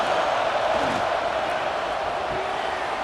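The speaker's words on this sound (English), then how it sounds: "This crowd going to try to make life miserable for these guys." A packed stadium crowd at a college football game in a video game, Ole Miss against Texas, gives off a steady, broad roar with faint whoops, continuous and moderately loud.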